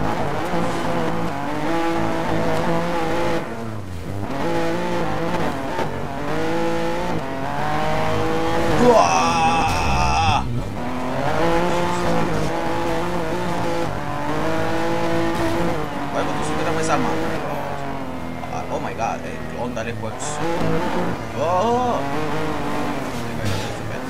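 A BMW M3 races in the video game Need for Speed Most Wanted, its engine roaring steadily with tire squeals throughout, under a voice talking over it.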